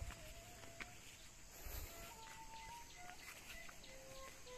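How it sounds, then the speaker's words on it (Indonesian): Faint forest bird chirps and short whistled calls scattered over a steady hiss of insects in quiet, misty morning highland village surroundings, no voices. "suara alamnya sahabat ya burung-burung jam segini berkicau"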